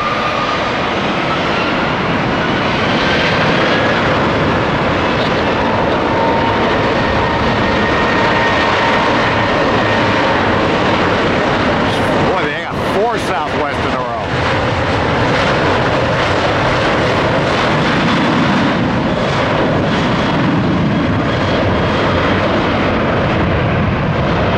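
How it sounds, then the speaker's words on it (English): A Southwest jet airliner takes off at Tampa, a loud continuous engine roar filling the whole stretch without letup, steady and close with no voices. "Southwest 103, clear for takeoff."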